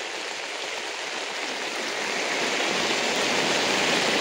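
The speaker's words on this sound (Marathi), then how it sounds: "एवढं पाऊस पडतात काय बघा." Heavy winter rain pours over a Konkan farm garden, a dense unbroken roar of falling water that swells a little louder partway through, with no voices.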